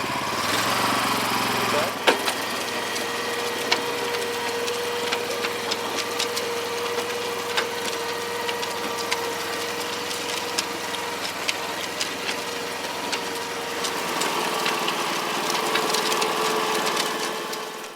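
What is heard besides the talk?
BCS two-wheel tractor tiller running with PTO engaged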